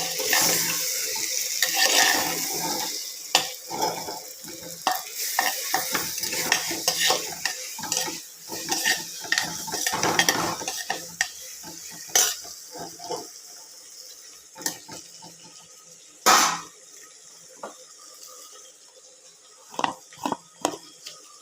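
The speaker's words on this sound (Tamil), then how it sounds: "இப்போ வந்து நல்லா கிளறிக்கணும்" Steady stirring and scraping of a ridge gourd dish in a pot over a soft sizzle, with spoon clatters and knocks rising and falling throughout, close by and without talk.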